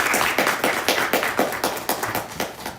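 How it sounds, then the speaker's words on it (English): A small audience at a Black History Month celebration claps for a speaker. The claps are close and fairly loud, in a loose, steady rhythm that slowly thins over nearly three seconds. "Let's give her another round of applause."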